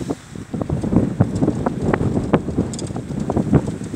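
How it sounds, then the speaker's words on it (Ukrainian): Steady wind gusts buffet the microphone with a rough, rumbling roar that swells and eases throughout, with faint flapping and creaking underneath from flags and poles swaying on a street. "Ось так, вітер такий"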